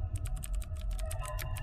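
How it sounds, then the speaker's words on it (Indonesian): Rapid typing on a computer keyboard, a steady stream of quick, close key clicks with no gaps, over a low background hum. "Seketika suara keyboard komputer"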